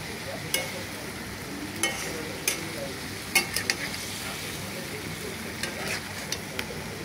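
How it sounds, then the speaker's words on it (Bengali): Fish and vegetables frying in a covered pan, lid lifted for stirring: a soft continuous sizzle with scattered spoon scrapes and clinks against the pan, close by, with no talking. "ঢাকনাটা উঠে একটু লাড়াছাড়া দিতে হবে, নাহলে আবার লাগবে।"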